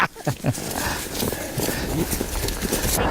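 Horse hooves clip-clopping on a trail, several irregular knocking steps near the start settling into a busier rhythm of hoofbeats mixed with rustling, with faint voices in the background.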